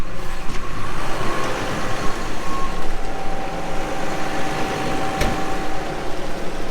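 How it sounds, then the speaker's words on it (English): A tractor-driven feed mixer wagon spins its rotors at 1000 PTO speed to break up bales, giving a steady loud mechanical drone with a faint tonal whine and one sharp knock near the end. "Now for the bales, I put them on 1000 speed, just because it spins the rotors a little bit quicker in there."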